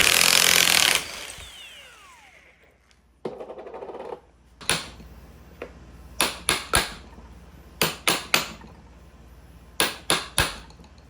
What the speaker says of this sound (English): Just gonna zip that off with the gun.